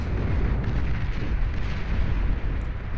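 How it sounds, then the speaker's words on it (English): A turret fires repeatedly in the strategy game Beyond All Reason, producing a dense, continuous rumble of booming shots and explosions at moderate volume without any speech. "Pitbull turret having the time of its life, blasting away at a lot of this T1 trash"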